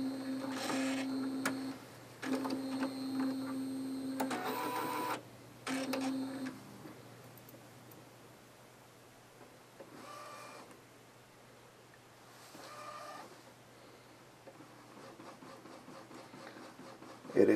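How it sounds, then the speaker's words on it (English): An Epson R2000 printer running its ink purging cycle: a faint mechanical whir and clicks in a few bursts, then quieter intermittent motor hums in a quiet room. "press the ink button, and the printer should now go through its purging cycle."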